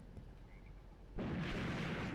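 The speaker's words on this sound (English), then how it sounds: "Explosions and rockets continue to pound the German position." Explosions and rocket impacts from the Graviteam Tactics war game: low ambient rumble, then a sudden loud blast midway that rolls on as a dense, sustained roar.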